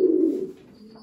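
A racing pigeon in a loft gives a single short, low coo close by, fading out within a second.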